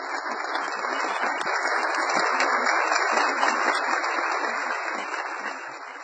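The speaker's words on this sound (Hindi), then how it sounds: "तालियों की गूंज से इस्तकबाल कीजिए" An audience at an Urdu conference claps warmly for a professor, a dense, sustained round of applause that holds steady throughout with no talking over it.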